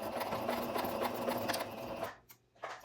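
A sewing machine back stitching a seam whirs steadily and close for about two seconds, then stops with a few faint clicks and handling noises.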